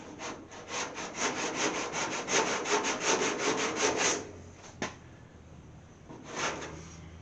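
Cutting material off a 1929 Chrysler body: rapid rhythmic rasping strokes, close and fairly loud for about four seconds, then a single knock and a brief final burst of scraping.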